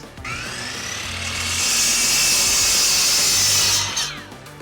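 A 1x4 wooden board being cut into pieces with a power saw, a loud continuous high whine that swells as the blade bites through the wood, then eases off near the end, close by with no voices.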